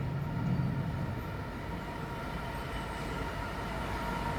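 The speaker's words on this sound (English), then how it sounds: "And it is indeed a blue Maritime 66." A blue Maritime Intermodal Class 66 diesel locomotive, 66090, rumbles past at Reading West with a steady, dense roar and low engine drone throughout, fairly close and with no talk.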